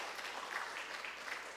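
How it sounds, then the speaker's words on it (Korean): A church congregation applauds in a soft, steady patter of many hands, faint and diffuse throughout the short moment. "우리 박수 한번 줄까요?"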